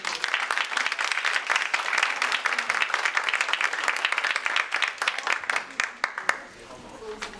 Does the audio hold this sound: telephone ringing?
no